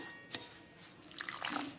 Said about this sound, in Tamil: 1 கப்பு தண்ணி முதல்ல விடுறேன்.